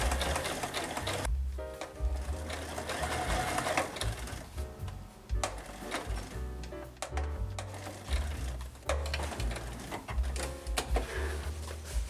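A sewing machine runs in steady bursts, edge stitching along the folded hem of a pair of pants, its close mechanical whirring rising and stopping at short intervals with brief pauses between runs.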